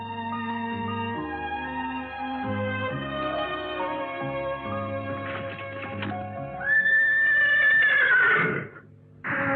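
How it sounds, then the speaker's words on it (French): A white horse lets out a loud, high, quavering whinny that rises and then cuts off abruptly, following a stretch of stepped melodic tones in an animated scene. "Alors, on va laisser le beau cheval blanc ici?"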